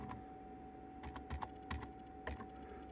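Light, irregular keystrokes on a computer keyboard as a password is typed on an HP Compaq dc7700 workstation, quiet, close, and without speech.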